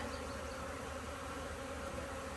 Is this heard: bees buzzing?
yes